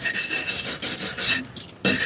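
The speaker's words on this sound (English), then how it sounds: "scrape away any of this loose surface rust that there is, using my handy dandy regular wire scraper" A wire scraper rasps loose surface rust off the body of an Audi TT mk1 project car, giving close, loud, gritty strokes in quick repeated rhythm, a brief pause, then one more hard scrape.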